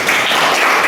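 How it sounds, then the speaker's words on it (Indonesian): Classroom applause for a student in a physics lesson, a brief loud burst of many hands clapping together, close and continuous for under a second. "Jadi kasih tepuk tangan buat Rizal ya."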